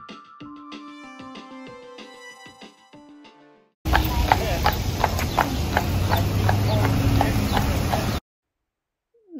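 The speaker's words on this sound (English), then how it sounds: "This clipping of the horse I recorded in Pennsylvania" Horse hooves clip-clop on a road in Amish country, Pennsylvania, a loud rhythmic run of close hoof strikes with wheel and road noise, following a quieter opening stretch of tonal, musical sound.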